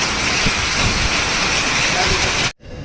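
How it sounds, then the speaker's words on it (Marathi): Heavy hail mixed with rain falls hard outside, a loud, steady broadband roar and clatter running unbroken for a couple of seconds before cutting off abruptly. "बाहेर पाऊस पडायला लागला जोरात गाऱ्याचा"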